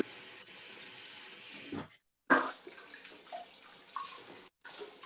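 Water runs from a tap onto hands at a sink, a soft steady splashing hiss that cuts off briefly twice, with small clatters as the flow shifts, close and quiet.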